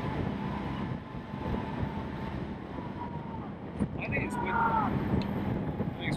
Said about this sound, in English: Fucking windy here.